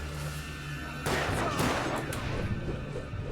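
Gunfire in Alan Wake Remastered, a burst of loud shots and crashing impacts starting about a second in, over steady game ambience.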